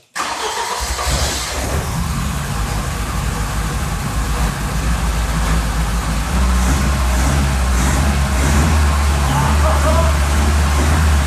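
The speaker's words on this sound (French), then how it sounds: "La voiture tourne, elle tient le ralenti proprement, et on tente de mettre un coup de gaz" A Seven16 V12 car engine runs at a steady idle after starting, a loud continuous low rumble that holds even throughout, with a slight rise in level partway through.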